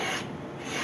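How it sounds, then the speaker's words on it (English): A Stanley No 80 cabinet scraper drags across weathered, waxed scrap wood in one continuous close, rough scraping stroke that holds steady throughout. "So I figured I'd scrape it."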